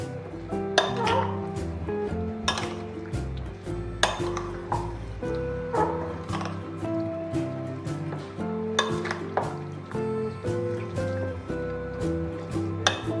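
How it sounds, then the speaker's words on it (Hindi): Mutton being mixed with spices, including cumin and pepper, in a metal pot, with repeated spoon clanks and scrapes at an uneven rhythm over a light sizzle, close by with occasional brief talk. "अब हम इस सारी चीज़ों को मिक्स कर लेंगे अच्छे से"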